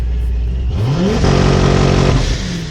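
A 1,000 hp Corvette Z06 engine holds a loud, steady rev on two-step launch control, climbing in pitch and then sitting on the limiter, close and continuous, with no talk.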